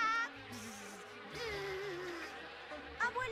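Cartoon bees buzz in a steady insect drone with a wavering whine, over soft background music, with no talking.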